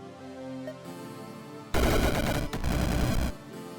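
Magic Missile spell cast in the fantasy game Rift Wizard 2: after a quiet, tonal lead-in, a loud, harsh crackling burst erupts, briefly dips, then surges again before cutting off.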